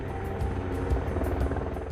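The steady, heavy drone of a twin-turbine military helicopter, its engines and rotors whirring without a break.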